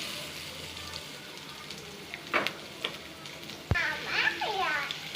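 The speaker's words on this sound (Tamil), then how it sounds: "நல்லா ஒரு ப்ரௌன் கலரில் நல்லா ஃப்ரை ஆகணும் வெங்காயம் எல்லாம்" Finely chopped onions frying in hot oil for an egg masala, a low steady sizzle with a few stirring knocks, while a voice chatters nearby in the background toward the end.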